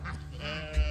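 Hungry sheep give a short, close bleat on a farm, a single wavering call lasting about a second.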